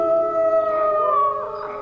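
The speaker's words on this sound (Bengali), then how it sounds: "স্কুল বাড়ির পিছনের জঙ্গল থেকে দিনের আলো থাকা সত্ত্বেও সত্যিকারের শিয়ালের দল প্রত্যুত্তর দিল" A pack of jackals howls from a forest behind a school building in daylight: a few overlapping rising and wavering wails, close and fairly loud, with no voices.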